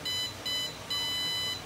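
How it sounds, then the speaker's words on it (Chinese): An aquarium temperature controller sounds its over-temperature alarm: three bursts of rapid, loud electronic beeping, steady and alone with no talk, separated by short gaps. "超过你的设定温3度，它就会警报，然后开始哔哔哔哔哔"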